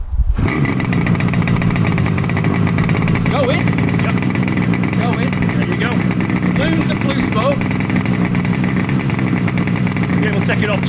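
A Yamaha RD250D motorcycle engine kicks over and fires for its first start, settling into a loud, continuous two-stroke run close by, with people talking over it.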